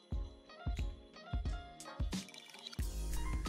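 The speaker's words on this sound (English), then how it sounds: "That is now the first bucket load of water out" A bucket is filled with water drawn from an aquarium tank. The water splashes and gurgles in several distinct pours, each landing in the bucket as a sloshing burst with dripping between them, close and with no one talking.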